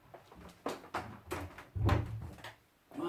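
An interior door in a home pushed shut, several soft knocks and shuffles building to one dull thud near the middle, fairly close and at moderate level with no talk.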